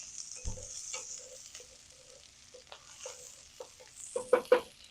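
Vegetables shifted around a pan over a low flame, a quiet sizzle with scattered soft scrapes and a few sharper clacks of the utensil near the end, no voices.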